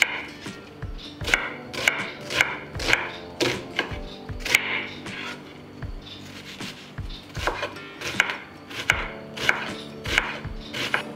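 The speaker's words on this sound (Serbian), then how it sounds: "Dok čekam da voda proključa, iseckat ću 2 glavice luka sitno" Two onions being finely chopped with a knife on a cutting board, a steady run of close, crisp blade taps in quick rhythmic bursts with short pauses, no talking.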